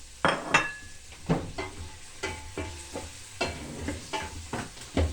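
Round carrot slices sizzle in olive oil in a pan while being stirred, a steady frying hiss broken by repeated sharp scrapes and clinks of a utensil against the cookware, close up and with no talking.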